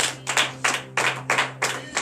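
A worshipping congregation at a Beninese morning prayer service claps in unison, about six sharp, evenly spaced bursts of hands striking together in a steady rhythm, fairly close, over a low constant hum.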